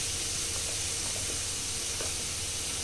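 Steady sizzle of onions and spices frying in a pan for Kashmiri dum aloo, a bright continuous hiss with faint stirring scrapes, close and even throughout.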